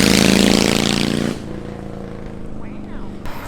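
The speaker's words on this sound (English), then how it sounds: "hold on, there's a motorcycle." A loud motorcycle engine in Mexico roars close by for about a second, then quickly fades away, leaving quieter background sound.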